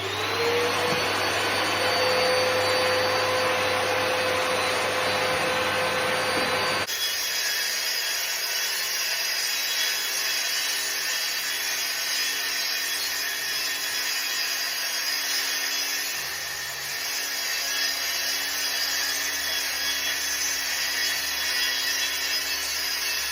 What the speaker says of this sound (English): The rail saw attached to the vacuum cleaner and ready to go.